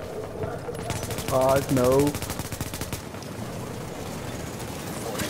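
Rapid automatic gunfire in a video game, a teammate shooting in a fast stream of shots that runs under a brief spoken exclamation and continues after it.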